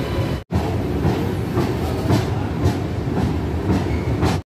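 The Purushottam Express passenger train rolls along after leaving Bhubaneswar, with a loud, steady interior rumble and rhythmic wheel clatter heard up close and continuous throughout.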